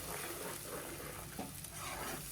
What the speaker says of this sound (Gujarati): સારી રીતે મિક્સ કરી લઈશું, જેથી ડુંગળી અને ટામેટાની પ્યુરી બંને સારી રીતે સંતળાઈ જાય